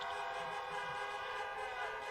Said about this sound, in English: The honking is so stupid.